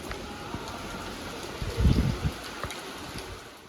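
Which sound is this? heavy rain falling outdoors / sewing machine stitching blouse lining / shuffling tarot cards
heavy rain falling outdoors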